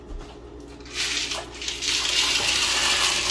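Dry beans poured into a pot of nearly boiling water for pozole make a rushing, splashing water sound that starts quietly and swells into a steady broad gush, with no talking.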